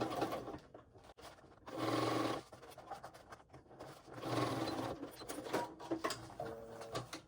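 A sewing machine runs a long-length stitch line along a waist pack gusset in two short, quiet bursts separated by softer handling noises.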